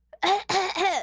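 A few harsh, voiced coughs or throat-clearing bursts in quick succession, close and fairly loud, with no speech.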